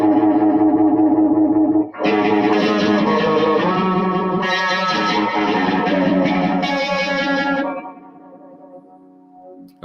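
Electric guitar run through a Keeley Super AT Mod Overdrive pedal with modulation depth turned up, playing loud, continuous driven chords with a swirling phaser-like sweep and echo, then fading into a softer decaying tail near the end.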